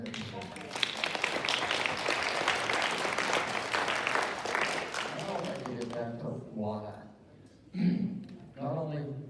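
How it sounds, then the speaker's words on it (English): A town hall audience breaks into steady applause for about six seconds, then the clapping fades and a voice speaks briefly in the quieter room. "first let me applaud you for all you've done for this community"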